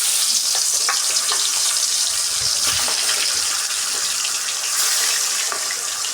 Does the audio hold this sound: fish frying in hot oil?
yes